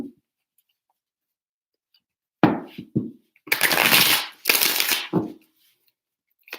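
Tarot cards being shuffled by hand, a few distinct close riffling bursts separated by short pauses in a quiet room.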